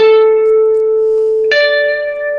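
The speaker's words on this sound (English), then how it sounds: "really long delay and reverb" Sustained electric guitar notes drenched in long delay and reverb, one held tone ringing out then a second note struck at mid-point, echoes trailing and washing over each other with no voices.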